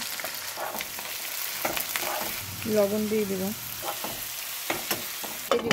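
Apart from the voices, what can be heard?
onions frying in a wok with spices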